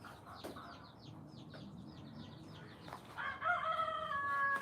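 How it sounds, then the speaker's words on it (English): Chickens clucking near a farmyard with little chicks, followed by a rooster's loud crow rising clearly in the last seconds, close and distinct against quiet background. "I know you hear the roosters"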